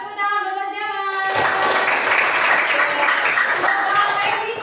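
A classroom of children claps for a pupil, a dense burst of applause that begins after a moment of music and holds steady for several seconds.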